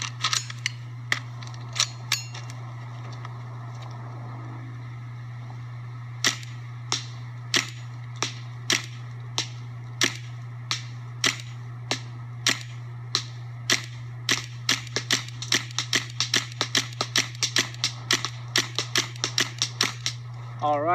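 A Vortex DMR M82 sniper-style marker fires round balls in a long series of sharp, close pops, spaced irregularly and bunching into quicker volleys toward the end, over a constant low electrical hum.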